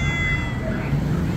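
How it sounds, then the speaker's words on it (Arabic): A cat meows several times at close range amid street noise at a Baghdad plant-nursery street market where cats are sold, with steady background hum. "قطط جميلة جدا"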